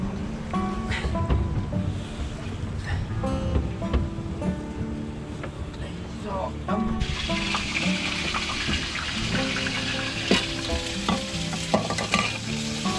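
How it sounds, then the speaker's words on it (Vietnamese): Fish fries in a pan at sea aboard a fishing boat, a loud steady sizzle and crackle that runs throughout, with the hiss brightening partway through and no talk over it. "Đó, đang chiên đó."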